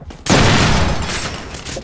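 Heavy gunfire in the Deadpool video game bursts in after a brief quiet moment and sustains as a loud, dense fusillade with rumbling booms, faintly tailing off toward the end.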